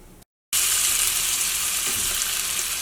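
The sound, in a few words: fish frying in coconut oil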